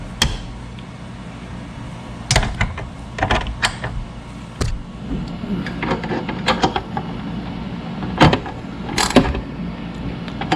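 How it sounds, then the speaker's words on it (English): A hand ratchet snugs up fairing bolts on a Kawasaki Vulcan VN1700 motorcycle, giving short bursts of close, crisp clicking separated by pauses and light handling knocks. "I'm going to go ahead and take my ratchet and tighten these up"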